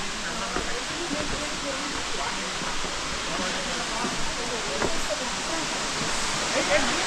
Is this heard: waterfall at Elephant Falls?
yes